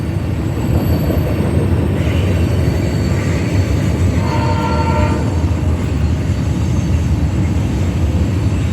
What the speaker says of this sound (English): Florida East Coast Railway.